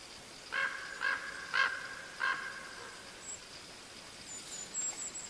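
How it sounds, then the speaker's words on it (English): A few honking calls of migrating geese sound in a short series, four spaced calls at moderate distance, with faint higher chirps afterward in a quiet forest in Sequoia and Kings Canyon National Parks. "We can hear maybe the geese migrating through the forest"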